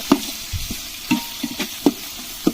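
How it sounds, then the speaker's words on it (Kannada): Onions and chillies frying in a pan over a wood-fired stove for North Karnataka chicken curry, a soft sizzle broken by regular scraping stirs about every half second, close and alone. "ಒಳ್ಳೆ ಕೆಂಪಗಾಗಂಗೆ ಈರುಳ್ಳಿ ಮತ್ತು ಮೆಣಸನ್ನು ಚೆನ್ನಾಗಿ ಹುರಿತಿದ್ದೀವಿ ನೋಡಿ"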